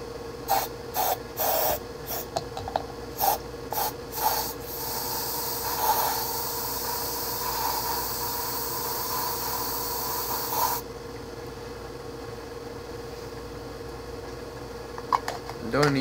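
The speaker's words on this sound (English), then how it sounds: "We're gonna spray it out." Hairspray sprays from an aerosol can's nozzle: a few quick puffs, then one long steady hiss that lasts several seconds before it stops, leaving a faint hum.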